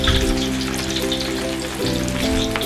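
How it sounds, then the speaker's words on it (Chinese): Whole fish sitting in hot oil after the flame is turned off, giving a steady, dense sizzle and crackle up close that drops slightly near the end, with no talking. "就让 这个油温呢慢慢把这个鱼呢浸到熟，或者是泡到熟"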